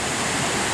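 Waterfall on the river below Cow Green Reservoir in Teesdale on the Pennine Way, a loud continuous broadband rush of falling water heard up close with no pauses.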